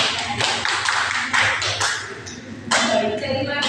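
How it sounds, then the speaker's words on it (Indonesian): A small classroom group claps for classmates during a teaching practice lesson, uneven bursts of hand claps and taps rising and pausing over a few seconds, close and moderately loud. "Tepuk tangan dulu untuk teman kalian yang sedang mengikuti"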